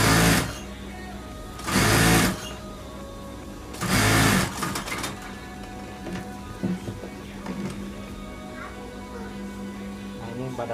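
A sewing machine stitches a pillowcase in three loud, fast bursts of whirring at the start, then goes quiet while someone talks over faint handling sounds.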